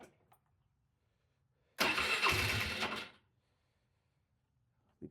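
A Polaris Sportsman ATV cranked on choke: after near silence, the engine catches with a loud, close burst, runs roughly for just over a second and then dies away, leaving quiet again.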